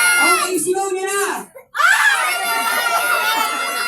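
Guests at a first-birthday party shout loudly together on cue, a burst of screaming cheers and laughter that breaks off briefly, then surges back up as a noisy crowd roar close by.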